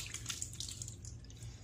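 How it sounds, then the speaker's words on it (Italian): Water tipped away mid-way through a wet shave with a Blackland Sabre safety razor and shaving soap: a short, steady wet splashing and dribbling with small drip-like spatters, fairly close. "fatemi buttare via l'acqua"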